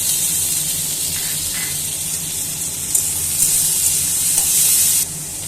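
Corn kernels and chopped tomato fry in a pan, making a steady sizzle with light stirring scrapes and occasional brighter hissing bursts toward the end.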